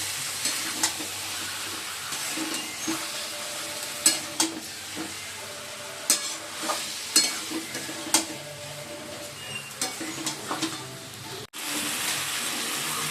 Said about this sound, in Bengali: ভালো করে কষিয়ে নিচ্ছি এবার।